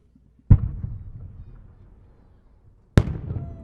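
A 7-inch Maltese-style multi-break cylinder firework shell with red outer, blue inner and gold center breaks bursts twice, each a sharp, loud boom followed by a rumbling, crackling tail that fades before the next blast.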